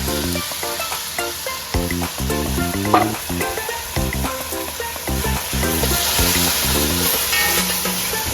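Onion and garlic fry in a pan for a Trinidad pelau, a steady close sizzle with faint crackles and occasional stirring, no talk over it.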